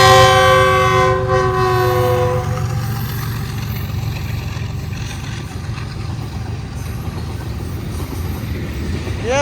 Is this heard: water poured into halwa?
no